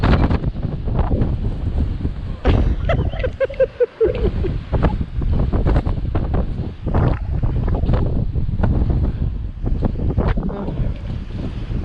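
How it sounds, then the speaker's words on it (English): Strong blizzard wind during a bomb cyclone, roaring and buffeting against the microphone in continuous heavy gusts, with brief shouted voices partway through. "Look at that wind"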